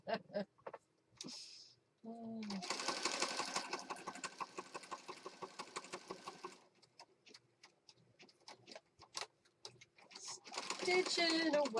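A sewing machine stitches in bursts during junk journal crafting, a fast rattling run of needle strokes after a few clicks and handling sounds, then more short pauses and a final quick run.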